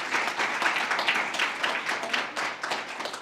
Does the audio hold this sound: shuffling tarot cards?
no